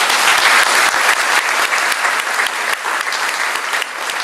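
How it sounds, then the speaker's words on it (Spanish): Loud audience applause during a talk, a vigorous, close burst of many people clapping, continuous and fairly even for several seconds with no voices. "Fuerte aplauso para"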